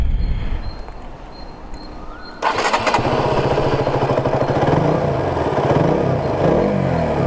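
A KTM 200 Duke's 200cc fuel-injected motorcycle engine cranks and fires up, then settles into a loud, steady, rumbling idle close by.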